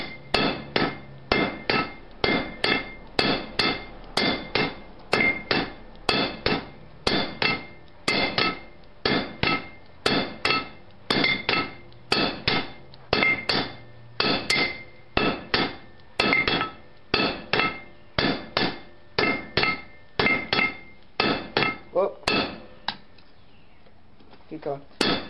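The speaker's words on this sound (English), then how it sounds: "this clip is just George forging the bolt head" A hammer forges a bolt head for a Roman scorpion, striking in a fast, regular series of loud metallic blows, with short pauses, close and clear throughout.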